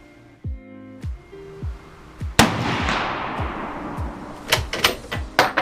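A Carcano rifle fires original-era ammunition outdoors. One loud, sharp report rings out with a long echoing tail, surrounded by smaller mechanical clicks and knocks from handling the rifle.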